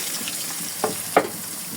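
Ingredients for a chicken dish go into hot oil in a kadai, setting off a steady sizzle with two brief splashy bursts as pieces hit the pan.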